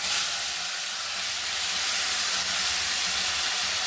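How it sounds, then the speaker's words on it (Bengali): Mutton tipped into a hot pot of turmeric, potato, cardamom, cinnamon, cloves and whole cumin gives a steady, loud broadband hiss and sizzle that holds evenly throughout, with no voices. "মাংস আমি এবার আস্তে করে ঢেলে দেবো।"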